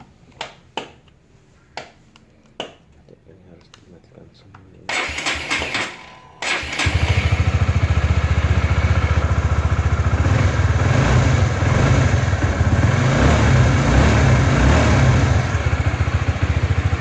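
A Honda motorcycle engine is started after a few faint clicks and knocks, catching with a burst before settling into a loud, steady idle that runs smoothly to the end.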